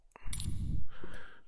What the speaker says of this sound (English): If you heard that little bell sound, okay, new device detected.